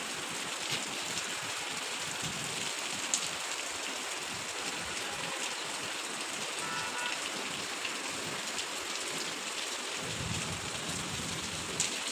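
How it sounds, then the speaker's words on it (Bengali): Heavy rain pouring outside, a steady, broad hiss of falling water with occasional faint taps and clicks, constant in level and with no voices. "বাইরে প্রচুর বৃষ্টি হচ্ছে।"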